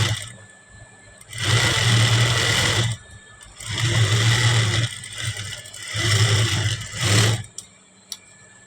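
A sewing machine stitches the side seam of a blouse in four loud bursts, each lasting one to two seconds with the motor whirring and rattling. Short quiet gaps fall between bursts, and a small click follows near the end.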